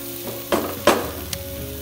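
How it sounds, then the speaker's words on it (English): Minced garlic sizzles in a hot pan while a utensil stirs it, with a steady frying hiss broken by two or three short scraping strokes. "we're going to throw in some minced garlic. And stir that through, give that another minute or so."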